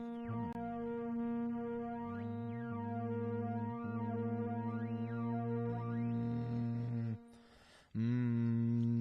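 Sustained buzzy synthesizer tones using oscillator sync, with harsh, shifting harmonics, a steady drone that breaks off briefly before a brighter, rasping tone returns.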